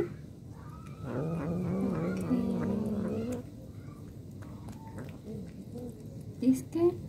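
An angry house cat vocalizes indoors at home in a long, wavering, moaning yowl lasting a couple of seconds, then quieter growling mutters and a few short sharp cries, fairly close and loud.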